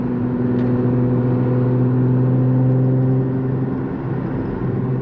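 A stock-tuned Audi S4 driving in auto mode, a steady low engine drone with tonal hum and road rumble from inside the car, even and smooth with no revving spikes or burbles, and no talking.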